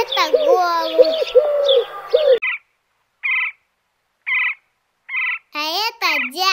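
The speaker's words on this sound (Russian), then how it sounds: "это голубь." A pigeon coos in four short, evenly spaced calls that stand alone against silence, with a voice speaking just before them and again at the very end.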